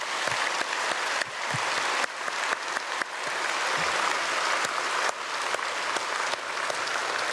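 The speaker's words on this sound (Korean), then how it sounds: "우리 보이지 않는 곳에서 수고하는 분들을 위해서 크게 박수로 한번 축복하겠습니다" A church congregation at a Sunday service bursts into sustained, dense applause, a steady wash of many hands clapping for the full stretch, loud and close with no voices over it.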